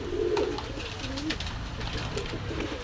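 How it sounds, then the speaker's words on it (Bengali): A pair of pigeons coo softly and closely in a shop, low repeated throaty calls over a faint background murmur. "এই এক জোড়া পায়রা কবুতর আছে"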